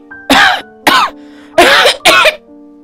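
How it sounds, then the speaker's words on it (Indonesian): An old woman coughs four loud, harsh times close up in two pairs, rough and raspy, with brief pauses between them. "Batuk nenek tua."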